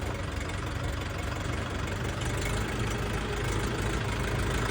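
Orion 504 tractor, green-yellow four-wheel-drive model with reverse gear and dual-disc clutch, idling with a steady, close, continuous low engine rumble throughout and no talk.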